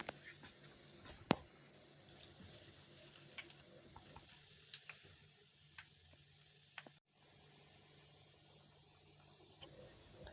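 Coconut biscuit dough, Ghanaian pooloo, fries in heated oil with a faint, soft sizzle, broken by scattered small ticks and pops and a brief dip in the hiss partway through.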